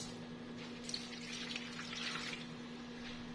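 Water pours steadily into a dish of crab (alimasag) simmering in coconut milk, a soft continuous splashing and trickling that lasts a few seconds over faint background hum.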